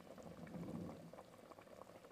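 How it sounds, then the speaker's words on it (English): Water bubbling at a steady boil in a pot while Egyptian okra (bamya) is being prepared, with a continuous close, moderately loud simmering roil and no speech. "now it's still boiling"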